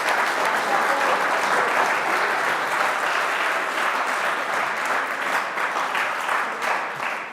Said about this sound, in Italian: Magari li salutiamo con un applauso di ringraziamento